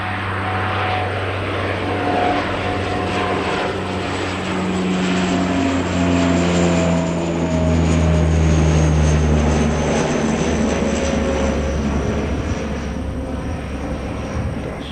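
A propeller airplane takes off near Christchurch, its engine drone loud and steady for the whole stretch, swelling slightly mid-way as it climbs past on a low takeoff profile.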